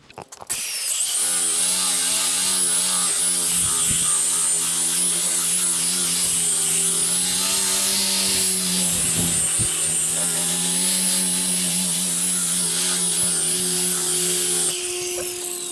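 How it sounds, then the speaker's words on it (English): A power buffer spinning steadily against a hazy headlight lens spread with rubbing compound, a loud continuous whirring hum with a high whine that holds nearly unchanged throughout after a brief start-up. "Now we're going to buff it out."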